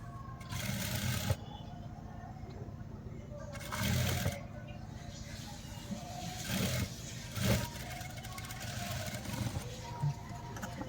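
Short whirring bursts from a sewing machine stitch a folded seam on a party wear dress, starting and stopping several times at close range with a voice speaking softly between runs.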